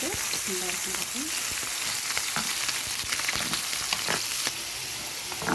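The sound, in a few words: liver frying in oil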